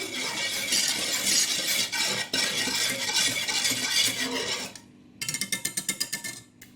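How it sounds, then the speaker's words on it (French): Whisk mixing batter in a bowl, a continuous scraping rustle that pauses, then quick rhythmic metallic taps against the bowl's side. "Je vous conseille de prendre un fouet, de mélanger un petit coup."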